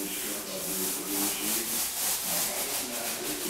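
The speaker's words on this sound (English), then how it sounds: "Feather it up with your back roller." A paint roller back-rolls primer over a patch of drywall mud on a wall, giving a close, continuous soft rasping swish that rises and falls with each pass of the roller.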